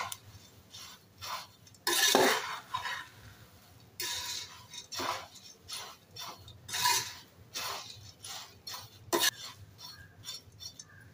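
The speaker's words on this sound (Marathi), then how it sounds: "थोडं परत एकदा परतून घेऊया" A spoon scrapes and clinks against a pan while stirring Kolhapuri bhadang, crisp seasoned puffed rice, in bursts of dry rustling and metallic scraping with short pauses between, close and fairly quiet.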